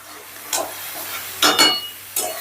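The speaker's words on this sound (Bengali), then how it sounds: "এবার আলু আর চালটাকেও মশলার সাথে ধরো 2 থেকে 3 মিনিটের মতন ভালো করে কষে নেব" Potatoes and soaked basmati rice are stirred and fried with spices in a pan, with bursts of hissing sizzle as the mixture is turned, three or four short surges over a quiet low background.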